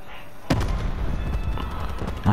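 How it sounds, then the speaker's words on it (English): A grenade blast in Call of Duty Black Ops 4 multiplayer: one sharp thump around the middle of the clip, followed by a dense rumbling tail and a second hit near the end, with no talk over it. "Throwing grenade."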